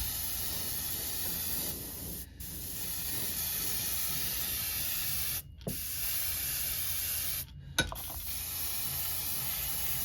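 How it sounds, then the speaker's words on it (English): Steady airbrush hiss spraying paint onto a fishing lure continuously for ten seconds, broken by two or three brief pauses where the air cuts off and restarts. "I got it put in an airbrush, and we're just going to spray a little on this thing"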